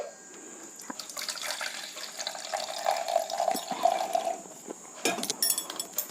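Water splashes and trickles steadily as soaking water is poured off rice and lentils, with a gurgling stream close by and a brief pause before more splashing.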